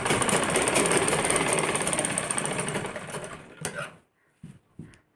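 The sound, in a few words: sewing machine stitching a kurti collar seam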